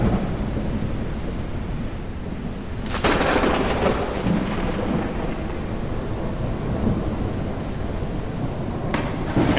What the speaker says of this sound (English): we are going to check out Norway in a storm